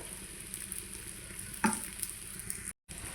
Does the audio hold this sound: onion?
yes